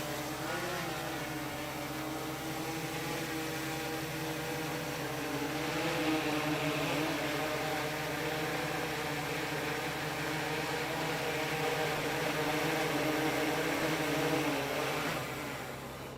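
A camera drone hovers above swimmers at Pensacola Beach, its propellers giving a continuous steady buzzing whine with layered tones, holding a constant level for the whole stretch with no talking.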